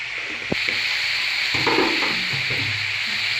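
Spices and raw tomato sauté in hot oil for a koi fish curry, giving a steady loud sizzle with a sharp tap of a utensil and scraping stirs partway through; nobody speaks.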